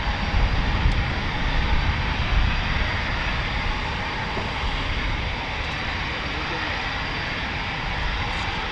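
Eurofighter Typhoon FGR4 jet engines with reheat at RAF Coningsby, a loud, steady broadband roar that holds for several seconds and heaves slightly early on before settling into a constant distant rumble.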